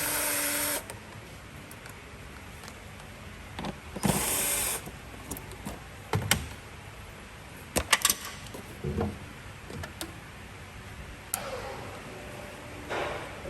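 Clicks, snaps and scrapes of pipe clamps being removed under the bonnet of a Chevrolet Cruze 1.4, sparse mechanical ticks and short rattles over a quiet background, with no talking.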